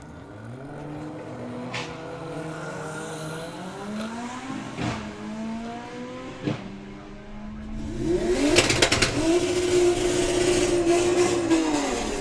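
Drag racing cars, an Audi A3 and a VW Golf, rev and accelerate hard down the strip, engines climbing through gears with a loud surge of noise near the end.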